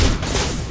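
Dense burst of gunfire in the Mass Effect 2 video game, a short continuous rattle of shots close and loud with no pauses.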